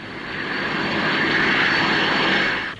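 Fairey Ultra Light two-seater helicopter running its engine, a steady loud broadband roar with a droning whine that holds at constant level, rising in slightly at the start and cutting off near the end.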